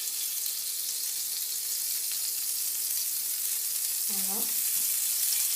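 Crêpe batter sizzles and fries steadily in a buttered, oiled pan, a soft continuous hiss with a brief spoken word near the end.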